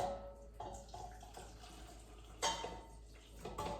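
Grease pours out of a cooking pot in a few uneven gushes and splashes, with light metallic clinks of the pot between pours.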